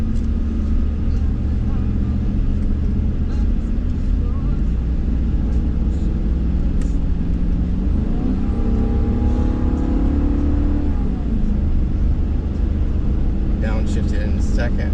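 Ram HD pickup truck cruising at about 40 mph in third gear after a downshift, a steady low road and engine drone heard from inside the cab, with a voice talking over it.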